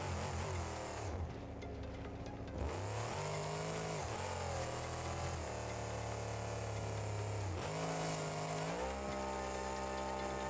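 A truck engine in BeamNG.drive revs hard and continuously, with rising and falling harmonic pitch sweeps, a brief dip around two seconds, then climbing again throughout, loud and close with no voices.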